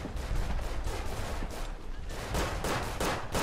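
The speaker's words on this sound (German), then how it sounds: "Auf was schießen die denn?" Gunfire in the WWI trench shooter Verdun crackles in dense, overlapping bursts and rifle cracks, a steady distant-to-midrange fusillade with no voices.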